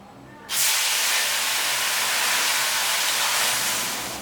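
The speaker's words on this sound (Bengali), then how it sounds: "তেলটা গরম হয়ে গেছে এর মধ্যে এবার আস্তে করে মাছগুলো আমি ছেড়ে দিচ্ছি" Piyali fish slides into hot mustard oil in a kadai and bursts into a loud, sustained sizzling hiss after a quiet moment, holding steady and close throughout.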